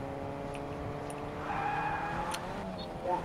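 A car in the CS:GO game drives and skids, an engine drone with a rising tire squeal through the middle, loud and close, with game noise around it.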